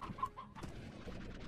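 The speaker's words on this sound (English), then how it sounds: "Pretty convenient, actually, having this basically unlimited supply of chickens." Chickens in the video game Slime Rancher cluck softly in short, choppy bursts, several overlapping calls forming a faint, busy flock chatter with no voices on top.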